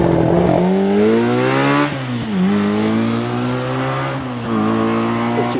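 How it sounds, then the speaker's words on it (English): A Ginetta race car climbs the hill at the Prescott hillclimb, its engine loud and close as it revs hard through several gear changes with rising and falling pitch, and no voices over it. "Andrew Russell is away in the Ginetta as the Mini Cooper comes through the S's"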